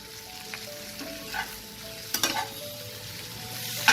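Tangra fish curry with potatoes and spring onion stalks fries softly in a pan, a low sizzle broken by a few scraping stirs and light clinks of the spoon.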